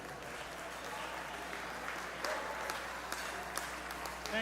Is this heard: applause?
yes